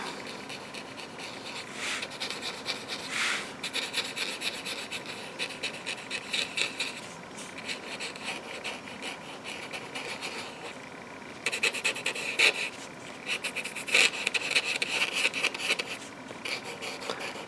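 Colour being rubbed and blended on paper, a steady dry scratchy rubbing that runs throughout in repeated strokes, close and moderately loud.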